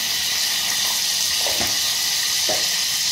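Curry leaves sizzling in hot oil for a tempering, a steady bright hiss throughout with a few soft crackles and pops from the pan.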